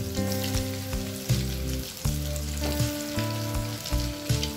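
Paneer chops frying in hot oil make a dense, continuous close sizzle with a faint steady hum beneath and soft periodic bumps as the batch moves.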